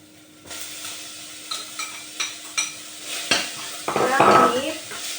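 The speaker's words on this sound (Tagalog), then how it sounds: "maggisa lang ako ng sibuyas" Onions sautéed in a pan in a home kitchen: a sizzle runs underneath as a spatula strikes and scrapes the pan several times, building to a louder burst of frying near the end, with no talking.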